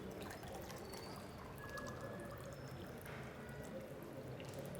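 Water pours steadily into a glass with a soft, continuous trickling splash, close by, with a faint high ringing tone rising as the glass fills.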